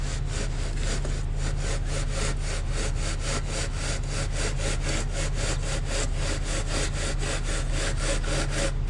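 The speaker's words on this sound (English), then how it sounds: "Keep coming with the board, seesaw it back and forth, and bring it right to your other hand." A wooden screed board is seesawed back and forth over a pipe to level base material for a dry-stack retaining wall, producing a continuous rhythmic scraping close by, with quick regular strokes beneath a constant low hum.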